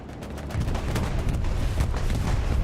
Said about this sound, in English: Bombing run is coming in there from Taco.